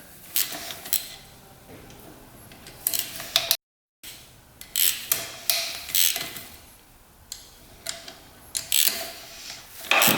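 A ratchet loosens bolts on a rebuilt 450cc dirt bike, with bursts of quick metallic clicking close by and short pauses between each bolt.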